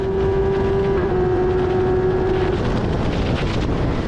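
Racing car engine at Silverstone during a botched gear change, a loud onboard engine drone with a steady tone that drops away partway through under heavy wind rush, no talking.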